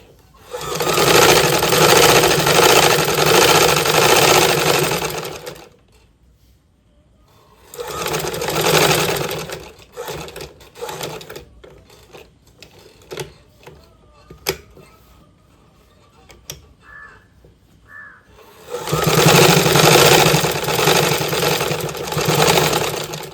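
Sewing machine stitching down the edge of a shirt front, running in loud sustained bursts separated by quiet pauses filled with small handling clicks and fabric rustles.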